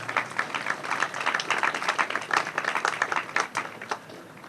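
Indoor audience at a city hall jubilee event applauding the minstrel singers, a burst of irregular hand clapping that stays lively for several seconds and then thins out toward the end.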